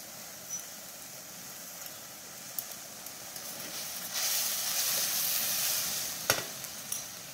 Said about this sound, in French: Je vais déglacer avec du porto et du bagnote comme je vous le disais